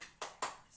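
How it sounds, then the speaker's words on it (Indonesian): Two sharp group claps from a class doing the 'tepuk semangat' spirit clap, fairly faint and evenly spaced with a short gap between them, no voices. "Kita melakukan tepuk semangat."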